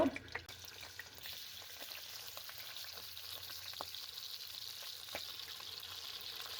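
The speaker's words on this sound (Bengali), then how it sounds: "এখন আমি মাছগুলো ভেজে নেব।" Koi fish fry in plenty of mustard oil in a pan over medium heat, giving a continuous close sizzle with faint crackles and a few light clicks, without talk.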